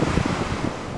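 Ocean waves wash against a jetty in a constant broad roar of surf, heavily mixed with wind buffeting the microphone, loud and continuous with no voices.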